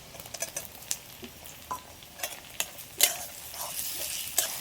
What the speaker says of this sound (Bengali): টমেটোটা দেওয়ার পরে হালকা করে একটু নেড়ে চেড়ে নিয়েছি।